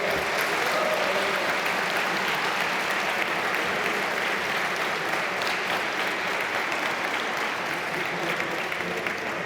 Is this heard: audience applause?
yes